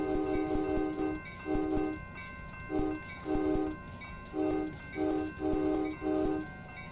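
Amtrak 577 train horn played as a horn show, a series of short and longer chord blasts in a musical rhythm, heard from inside the cab over a low rumbling engine.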